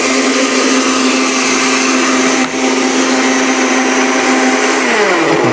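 A countertop blender runs loud and steady, blending a salad dressing made with apple cider vinegar, its motor holding one even pitch before winding down near the end.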